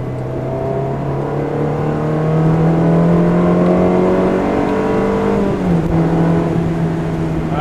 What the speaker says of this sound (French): Ah, ce V8, on s'en lasse pas.